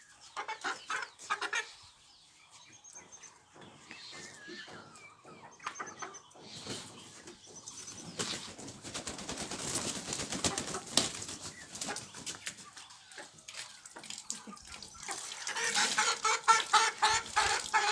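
Farm chickens raised on a family poultry farm cluck and call in irregular bursts, with brief wing flapping and a rooster-like call, growing busier and louder toward the end with no talking.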